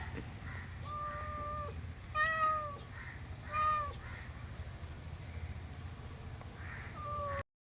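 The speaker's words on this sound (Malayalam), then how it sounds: "മിസ്റ്റർ പൂച്ച" A cat meows several times at a home in a village, the calls short, nasal and fairly close, rising out of a steady low background hum with gaps of quiet between them.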